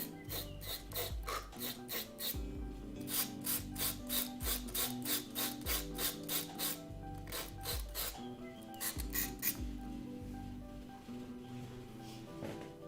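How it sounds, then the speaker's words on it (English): A blade is sharpened by hand during cosplay armor crafting, with quick, rhythmic rasping strokes in bursts of several passes, close and moderately loud with no talking. "Sharpen the blade just a wee bit."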